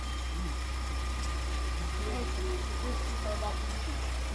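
A car engine revving with a knocking fault, a steady mechanical rumble carrying faint irregular clatter throughout, with people talking over it.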